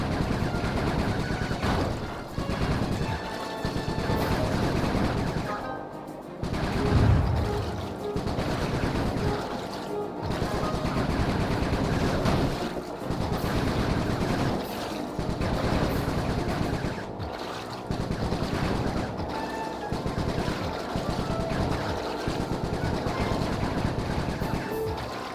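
Sustained gunfire in a Sly 3 shooting minigame, dense rapid bursts repeating almost without pause over a steady loud bed, broken by a few brief gaps, no talking.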